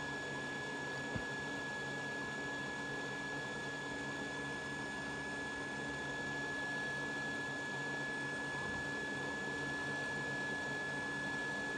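A heat gun warms an iPhone 14 to loosen its screen, a steady, faint blowing hum with a high thin whine, continuous and unchanging throughout.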